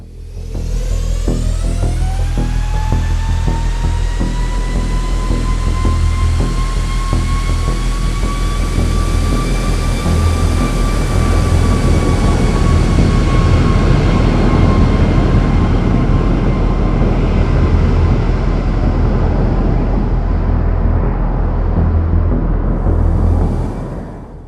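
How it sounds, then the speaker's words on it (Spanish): A Boeing 737 MAX, Lion Air flight 610, powering up its jet engines for the takeoff roll: a loud, steady roar with a rising whine that climbs in pitch and then holds, sustained for over twenty seconds. "El capitán empuja las palancas de potencia y los motores comienzan a acelerar mientras el avión inicia"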